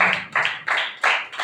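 A church audience clapping for the youth at a Christmas service, about five quick, close, loud claps in an even rhythm.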